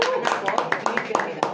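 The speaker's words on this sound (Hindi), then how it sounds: "इनके लिए ज़ोरदार ताली हो जाए प्लीज़।" Audience applause at a film trailer launch event, a short spell of scattered claps in a hall, moderately loud and mixed with crowd murmur and a speaking voice.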